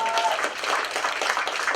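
An audience claps at a festival talk on sustainable business, a steady dense patter of hands lasting under two seconds, with a voice faintly audible over it.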